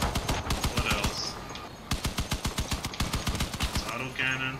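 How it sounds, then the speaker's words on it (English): Auto cannon fire in the Crossout vehicle combat game, rapid rhythmic bursts of loud repeated shots with a brief pause midway, plus clanking impact effects over the top. "It's auto cannon."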